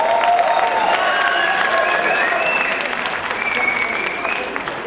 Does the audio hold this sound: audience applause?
yes